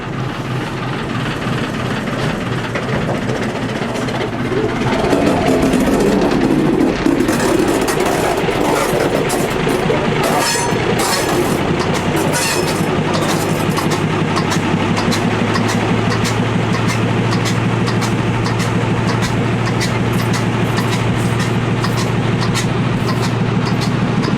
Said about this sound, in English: At this point here, we're going to shunt back into the station.